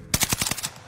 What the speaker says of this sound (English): Oh, he just got sniped.